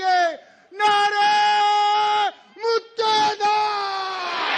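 At a political rally, a single amplified voice shouts long slogan calls and a crowd roars back in the short gaps between them, loud and close.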